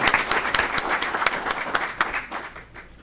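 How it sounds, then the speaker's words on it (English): An audience at a county commission meeting claps in a burst of applause, loud and dense at first, then thinning and fading toward the end. "So I'd like to have a round of applause for them."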